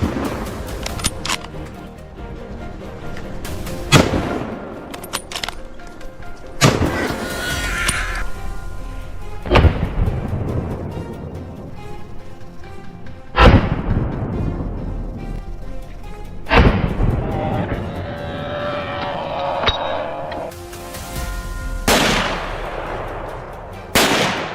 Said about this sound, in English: Gunfire echoed through the air, protecting the livelihood of the people.